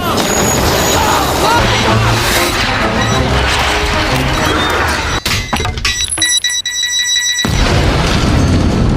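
A bomb blast in The Incredibles, a loud crashing, shattering explosion with breaking debris that fills the scene, cutting briefly to near silence before the roar returns.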